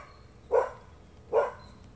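Two sharp dog barks about a second apart, fairly close and moderately loud, with quiet room tone between them.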